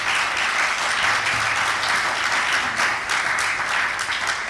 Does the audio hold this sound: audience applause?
yes